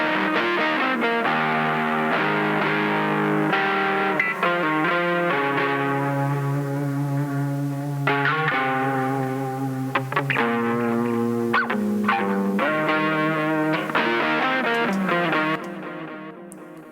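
Electric guitar played through a Boss Katana Mini amp with the cab simulator off, sustained distorted chords and melodic notes ringing with effects, carrying a noticeable background hiss, loud and alone until fading at the end.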